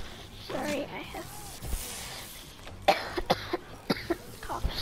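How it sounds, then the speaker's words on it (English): A person coughs a few times during a Plants vs. Zombies Garden Warfare 2 game session, sharp brief bursts close to the mic, with game sounds and faint talk around them. "coughs."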